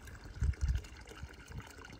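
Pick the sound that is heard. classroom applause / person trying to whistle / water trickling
water trickling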